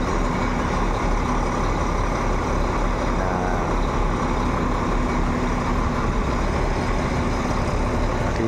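A Hyundai bus engine idles with a loud, steady low rumble that holds unchanged throughout, with no other sounds standing out.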